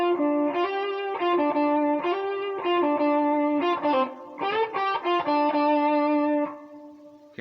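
An electric guitar with distortion plays a blues lick, a string of bent, hammered and slid single notes at a moderate, uneven pace, loud and close, ending on a held note with no talking.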